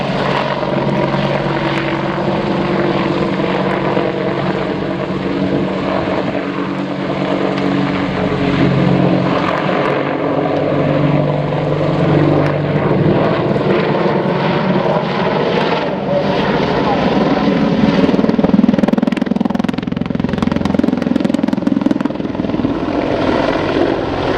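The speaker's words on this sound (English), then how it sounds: "the Apache out to your right now is repositioning with a return to target." An Apache attack helicopter repositions during a military air show, its loud rotor thump and turbine whine sustained and shifting in pitch as it moves, with a faint public-address voice talking underneath.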